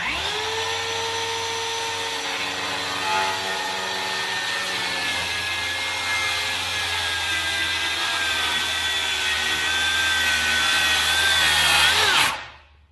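A Dewalt saw cutting through wood, a loud continuous high motor whine with a slowly shifting pitch that runs for about twelve seconds before abruptly winding down at the end of the cut.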